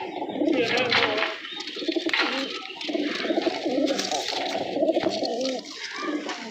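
Domestic pigeons coo in a steady, overlapping chorus of soft throaty calls close by, with faint voices and rustling mixed in.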